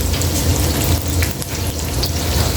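Liver frying in a pan while a Filipino sautéed vegetable dish is cooked, a steady close sizzle and crackle with no talk over it.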